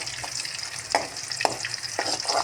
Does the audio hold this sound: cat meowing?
no